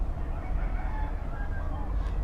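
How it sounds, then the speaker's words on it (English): Roosters crow in a residential neighborhood on a hillside near Honolulu, faint calls rising over a steady low outdoor rumble, with no talk. "Can you hear the roosters?"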